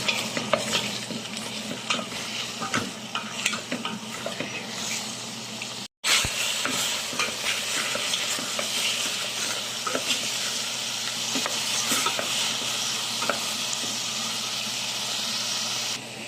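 Chicken sizzles and fries in a pot after garlic and onion, with a steady hiss and crackle, occasional stirring clinks and a brief cut partway through; no one speaks.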